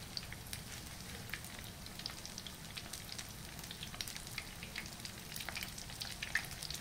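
Mussel croquettes frying in oil, a steady soft sizzle with scattered small pops and crackles, fairly quiet and continuous with no talking.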